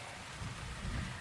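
Steady rain falls as a soft, even wash of noise with faint low rumbles, heard alone with no voices.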